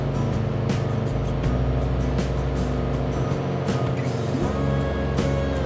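Small aircraft engine held at full power during a descent toward the runway, a loud, steady, unbroken drone throughout with no break in intensity.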